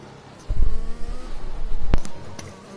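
Racing cars in an F1 video game race at the Mexico Grand Prix, with engines revving loudly as they accelerate, one car overtaking another, and a sharp burst near the end against a low background.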